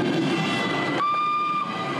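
A rack railway train runs between Poprad and Štrbské pleso in the High Tatras, giving a steady loud rumble with a sustained high whine or tone that rises partway through.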